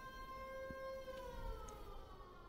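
Fire engine siren in a video game, a faint wailing tone sliding slowly downward in pitch, heard from a distance over low background noise.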